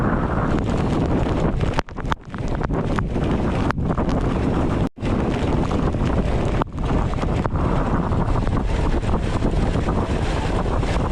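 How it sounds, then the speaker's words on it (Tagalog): Strong wind roars steadily across the microphone, with heavy buffeting and a few brief dropouts; no voices are heard. "Malakas na hangin."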